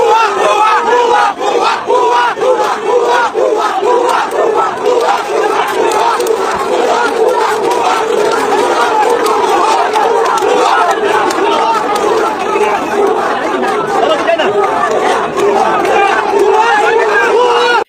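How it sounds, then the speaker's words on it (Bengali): An angry protest crowd in Bangladesh chants slogans in unison, a loud, dense and continuous roar of many voices with rhythmic shouting that never lets up. "সেখানকার উত্তেজিত জনতা ভুয়া ভুয়া স্লোগান দিয়ে তার সামনে বিক্ষোভে ফেটে পড়েন"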